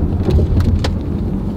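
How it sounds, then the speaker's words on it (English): A tall truck rolls over a train track, giving a deep rumbling road noise with a couple of brief thumps and rattles as the wheels cross the rails. "We're gonna go over a train track right now, and you guys will see how this car deals with bumps in the road."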